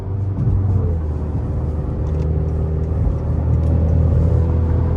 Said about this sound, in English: Over the bumps, etc., etc., that I usually go over every now and then with my Accord, with the coilovers that I have on, BC Racing coilovers.